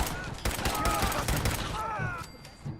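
Rapid video-game gunfire during an ambush, dense overlapping shots rattling continuously at close range, mixed with shouted voices throughout.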